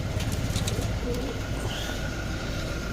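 A racing pigeon coos a few times at a derby basketing amid steady outdoor background noise, with faint traffic rumble underneath.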